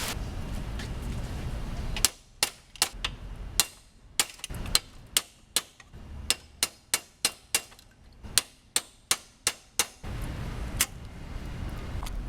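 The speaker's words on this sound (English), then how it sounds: "now I'm going to try this dowel and rubber mallet and popping the pedal out from the other side" Rubber mallet striking a wooden dowel to knock out the brake pedal on a 1969 Honda CL450 motorcycle: a series of sharp, separate knocks at an uneven but steady pace, close up with quiet gaps between blows.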